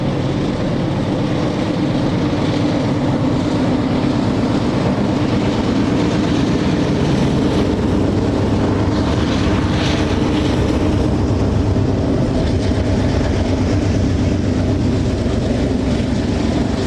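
A train rolls along Union Pacific's La Grande Subdivision beside a river on a curving stretch of track, a loud, continuous rumble and roar that holds steady throughout with no voices.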